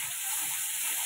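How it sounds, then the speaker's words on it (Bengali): A spice paste of ginger, garlic, turmeric and salt fries in a pan for a small-prawn malai curry. It gives a steady, close sizzle with a soft hiss and no pauses. "এবার একটু নাড়তে হবে"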